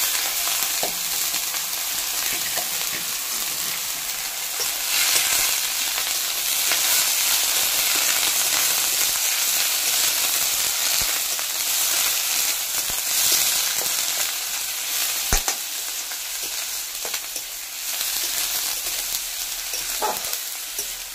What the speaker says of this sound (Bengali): দিলাম কেটে ধুয়ে রাখা লাউয়ের খোসা।